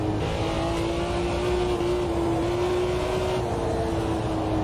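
A car engine drones steadily under load on a racing lap, its tone rising and then briefly dipping through a gear change, loud and close with constant road noise.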